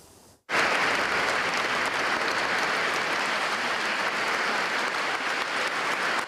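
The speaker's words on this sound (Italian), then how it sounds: "È un lungo applauso ad accompagnare sul palco Malak Kunti" Sustained applause from an audience at a civic award ceremony in Treviso, starting abruptly after a brief quiet moment and continuing loud and dense throughout, with no speech over it.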